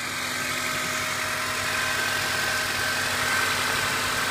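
A 2005 Honda Accord 2.4-litre four-cylinder with 162,715 miles idles steadily during an engine test, giving a close, even hum at constant loudness with a faint tonal whine and no voices.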